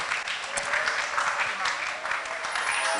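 A crowd claps rhythmically during a prayer service, dense continuous applause with voices over it throughout.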